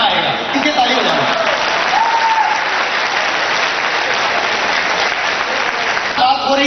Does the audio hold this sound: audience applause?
yes